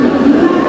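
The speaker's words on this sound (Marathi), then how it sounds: "ट्रेन आले" Local train pulling into a Mumbai suburban station, a steady loud rumbling drone with a low hum and faint rattling, close by and continuous with no talk over it.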